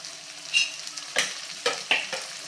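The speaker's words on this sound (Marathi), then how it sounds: "हा देखील बटरमध्ये आपल्याला छान परतून घ्यायचा आहे गुलाबीसर रंग होईपर्यंत" Finely chopped onion sautéing in butter with garlic for street-style pav bhaji, a faint sizzle broken by four or five distinct scraping stirs of the spatula, close and without talk.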